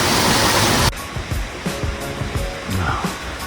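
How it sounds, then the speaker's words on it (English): A loud, roaring rush of a waterfall in Japan opens the clip, then cuts abruptly to quieter surroundings with scattered faint knocks and soft background noise. "it's got the noise of the waterfalls"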